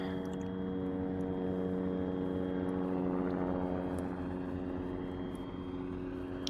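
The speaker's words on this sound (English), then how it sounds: "So yeah, that drone's going over there." A military drone flies overhead in the Arma 3 video game, its propeller engine droning steadily and loudly throughout with a constant hum and no speech.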